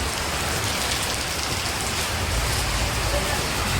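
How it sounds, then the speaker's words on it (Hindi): Steady, dense hiss of heavy rain pouring down, loud and continuous throughout, with a low rumble beneath. "और भाई इतनी बारिश हो रही है"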